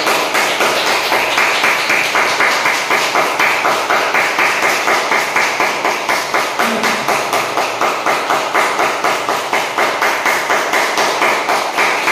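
A group of people at a sun salutation and breathing exercise session claps for themselves in steady unison, a loud, even, rhythmic beat that runs for about twelve seconds without talking.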